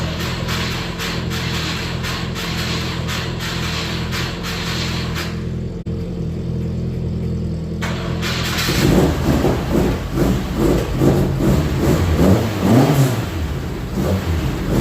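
A Mk1 Ford Escort engine runs steadily near the microphone, pauses briefly, then catches again and revs up and down with a rougher, louder roar toward the end.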